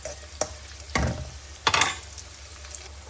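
Onions frying in a pan for palak bhaji, a soft sizzle beneath a few distinct stirring scrapes of a spoon, close and fairly quiet with no speech.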